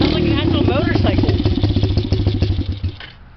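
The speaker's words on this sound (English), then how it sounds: "Sounds like an actual motorcycle." A 125 cc dirt bike engine runs loud and close, a rapid rattling putter throughout before cutting off near the end, with people talking over it.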